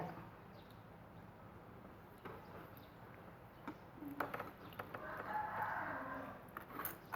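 Chickens cluck and a rooster crows faintly in the distance over a quiet outdoor background.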